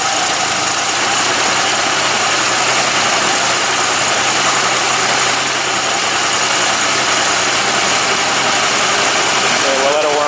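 A 1982 Ford Capri MKIII with very old fuel in the tank runs steadily at idle, a continuous close mechanical drone with vibration, while people talk over it.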